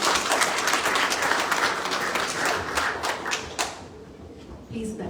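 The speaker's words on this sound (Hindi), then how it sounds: "ताली बजाएंगे परमेश्वर के लिए।" A church congregation claps for God during a worship service, producing dense, loud applause that fades toward the end, with voices mixed in.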